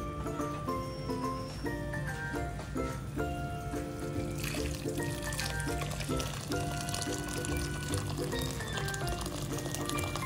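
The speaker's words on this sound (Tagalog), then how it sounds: "Ngayon, lalagyan na natin ito ng tubig." Water poured into a pot of sautéed glutinous rice for lugaw, a steady close pour with liquid splashing and filling, continuous for about ten seconds over a background hum.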